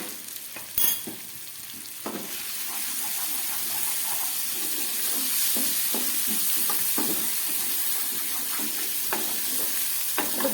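Pomfret fish masala with chilli powder frying in a pan: a dense, steady sizzle of oil that swells after the opening seconds, dotted with soft spoon scrapes and stirring knocks, close and without talk.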